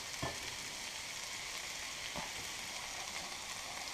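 Kale sizzles steadily in a hot pan, a dense continuous frying hiss with two brief louder crackles from stirring or tossing, close and with no talk.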